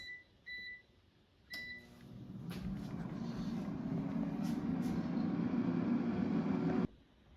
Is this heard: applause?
no